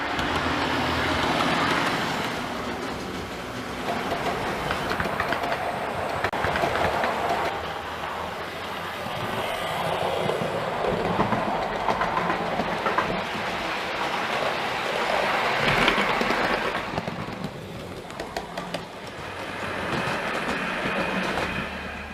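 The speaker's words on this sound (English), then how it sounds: "let's show you some of the new passenger stock that's arrived for Bute Road." A model railway train with newly arrived passenger stock, including a Bachmann Class 159, runs steadily along the track, its wheels producing a continuous rolling rumble with swelling and fading passes and no talk.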